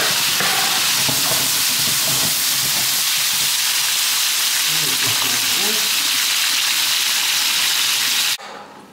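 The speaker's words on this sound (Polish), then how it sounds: "I rydze smażyły się około 15 minut, 10-15 minut." Saffron milk cap mushrooms frying in butter in a pan, a loud continuous sizzling hiss with faint stirring and scraping beneath, cutting off abruptly near the end.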